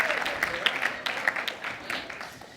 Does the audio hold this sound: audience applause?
yes